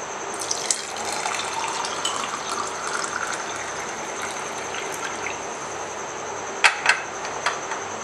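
Warm water pours steadily into a drink made with honey, a continuous close trickle and gush with a few sharp clinks near the end, no talking.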